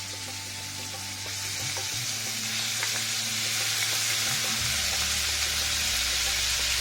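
Minced mutton frying in about 50 grams of hot ghee, a dense continuous sizzle that swells louder as it goes on, with faint stirring clinks and no voices.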